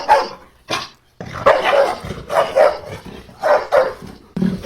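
Dog barking in a series of sharp, loud barks, single and doubled, with short pauses between them and no other sound.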